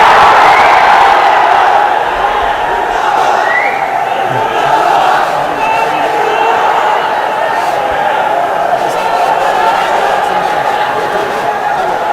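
A large crowd at an outdoor protest public meeting, a loud continuous roar of many voices shouting and cheering together, sustained and dense with no breaks, close and filling the ground.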